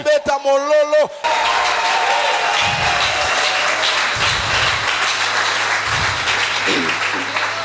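A church congregation breaks into sustained applause and clapping for the Lord Jesus after a brief sung or spoken phrase, loud and continuous, with a few voices calling out over it.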